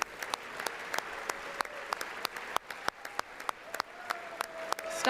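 Applause in the chamber of Congress during a presidential address, heard as scattered individual claps over a thin background of clapping, fairly faint and uneven, with a few brief tones cutting through.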